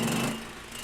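Riding lawn mower engine running at a steady, loud drone, a brief continuous buzz with no pauses.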